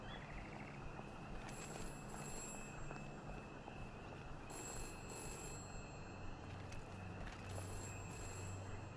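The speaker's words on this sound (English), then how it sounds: "telephone is ringing" A telephone rings repeatedly in bursts over a steady background hum, moderately loud, with no talk.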